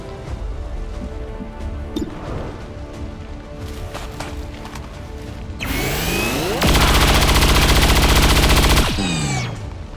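Weapons firing in the video game XCOM 2, heard as loud, dense bursts of automatic gunfire and crashing impacts that erupt after several seconds of quieter game sounds and then cut off abruptly near the end.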